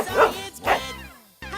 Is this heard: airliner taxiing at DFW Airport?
no